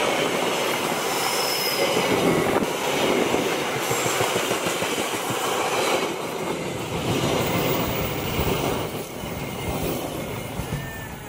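Passenger train hauled by locomotive 7206 passing close by, a loud continuous rumble of rolling wheels with rhythmic clacking over rail joints and occasional high wheel squeals.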